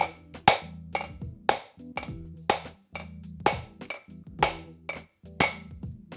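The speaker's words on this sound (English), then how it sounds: "as it goes down, you can hear me hammering away" Sharp metallic hammer strikes drive a wheel bearing race into place on a 1974 Chevy Nova, about a dozen evenly spaced ringing whacks, close and loud with no talking.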